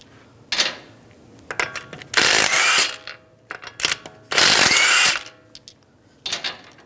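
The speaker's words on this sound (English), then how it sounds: "use a 19mm socket, take the lug nuts off" A ratchet fitted with a 19mm socket works lug nuts off a car wheel on a 2013-2016 Dodge Dart, loud bursts of rapid clicking separated by short pauses and metallic clinks, close up.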